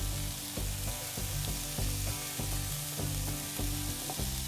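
Chopped garlic and ginger frying in a pan for an eggplant peanut stew, a steady bright sizzle with repeated stirring scrapes and clinks in a loose rhythm, close and fairly loud, with no talking.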